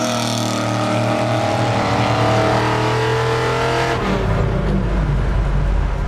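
A Ford Mustang's 289 V8 with a custom exhaust roars loudly, holding a steady high rev before dropping to a deep, rumbling idle with throaty exhaust burble.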